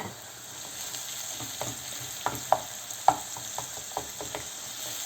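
Tomatoes and onions sizzle steadily in a pan while a spoon scrapes and stirs through them, producing intermittent clicks and knocks up close.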